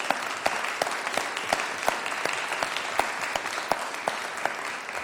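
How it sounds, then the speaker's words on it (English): An audience at a panel discussion applauds the whole panel, with individual sharp claps standing out above a dense, steady wash of clapping for several seconds. "Let's give the entire panel a big round of applause."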